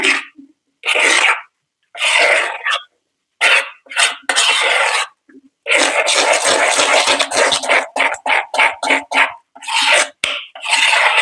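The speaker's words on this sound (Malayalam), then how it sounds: "ഇനി ഇതും കൂടെ കൂടി മിക്സ് ചെയ്യുക." Henna hair-dye paste is mixed in a bowl up close, with loud, repeated bursts of wet scraping and stirring that stop and start in an irregular rhythm.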